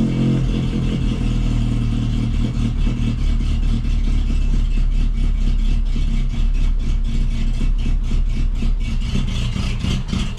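A Peugeot 205 off-road build's engine running roughly just after starting, a loud, close, uneven idle with clattering pulses and a lumpy, throbbing drone, no talking.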